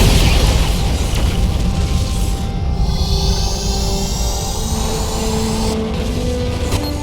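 A Romulan ship blowing apart in the space combat game Star Trek Legacy, a loud continuous roaring blast with a crackling, rumbling tail and a rising whine that streaks through the noise.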